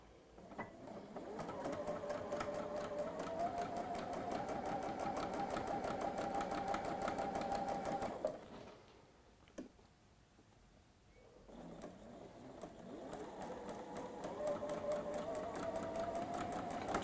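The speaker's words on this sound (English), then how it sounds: "we're just going to sew on the line, and we can chain piece that nicely" A sewing machine chain-piecing patchwork along a marked line runs in a steady whirring stitch, stops briefly with a click, then starts up again, close and fairly quiet.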